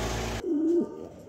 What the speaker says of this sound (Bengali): যারা ফেন্সি কবুতর লালন পালন করতে চান তাদের জন্য এই পেয়ারটা দেখেন।